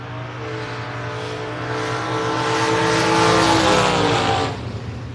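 Drag race cars, a Malibu and a purple Chevelle, roar at full throttle, the engine note swelling and climbing to a peak before cutting off abruptly near the end.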